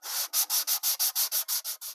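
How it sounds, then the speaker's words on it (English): A sanding block rubs back and forth over the wooden corners of a model building, about a dozen quick even scratchy strokes in steady rhythm, close up and alone. "just want to go around with my sanding block, make sure these corners are nice and square and smooth."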